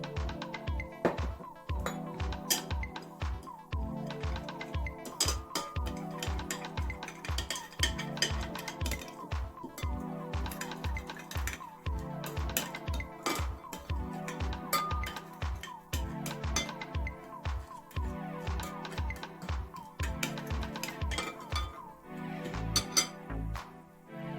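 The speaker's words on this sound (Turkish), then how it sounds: "1 tatlı kaşığı balımı ve mayamı önce birazcık suyla karıştırıyorum" A spoon clinks rhythmically against a bowl while a teaspoon of honey and yeast is stirred with a little water for Italian bread, a steady run of bright, close metallic taps repeating at an even pace.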